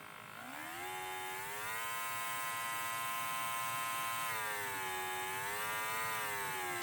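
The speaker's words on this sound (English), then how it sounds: "you can adjust the compressor" A portable all-in-one airbrush's built-in air compressor runs as a steady, close electric motor whine, its pitch dipping slightly and shifting as it is adjusted.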